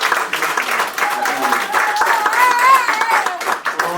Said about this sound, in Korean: 허락하신 하나님께 우리 같이 영광의 박수 올려드리겠습니다.